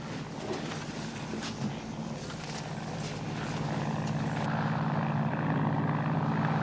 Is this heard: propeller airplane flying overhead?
yes